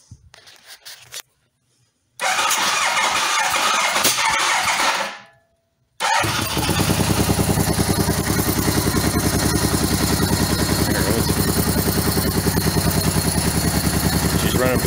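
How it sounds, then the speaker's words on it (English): A motorcycle engine running on only two cylinders after a carb rebuild: brief cranking bursts with gaps, then it catches and settles into a loud, steady, close idle with a rapid even pulse. "let's see if we can get her fired up on 2 cylinders"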